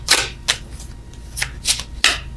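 Tarot oracle cards are shuffled close by in several quick, crisp riffling bursts at irregular intervals, with soft rustling in between.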